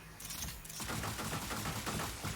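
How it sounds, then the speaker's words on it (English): In the video game Cyber Hook, cannons fire a rapid stream of sharp, rattling shots that crackle densely and stay fairly quiet beneath the game's steady background sound. "there are some cannons that shoot us pretty fast"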